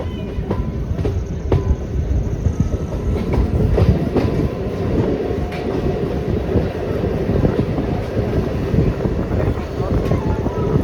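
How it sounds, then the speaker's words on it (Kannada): A MEMU passenger train runs along the rails between Ballari and Hospet, with a loud, continuous rumble, rhythmic clickety-clack of wheels over rail joints and buffeting wind noise throughout. "ಸಿಗ್ನಲ್ ಕ್ಲಿಯರ್ ಆಯಿತು ಅಂತೂ ಇಂತು ನಮ್ಮ ಟ್ರೈನ್ ಮೂವ್ ಆಯಿತು"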